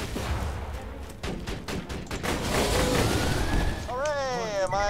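Rapid gunfire bursts from weapons in the video game Borderlands 2, loud, dense volleys and sharp shots throughout, with a sweeping electronic whine near the end and game voices mixed in.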